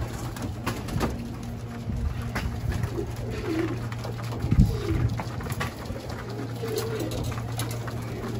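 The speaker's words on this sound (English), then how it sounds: "Some of the birds are already inside, but some of the birds are still outside." White racing pigeons coo at their loft, low repeated throaty coos near and around, with wing flutters and shuffling, and a steady background hum.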